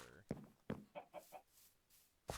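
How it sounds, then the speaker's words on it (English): Chickens clucking in a blocky survival video game set in a redwood forest: a series of five or six short, clear clucks in quick succession, then a final cluck after a brief pause, fairly close and with no talk. "Chickens."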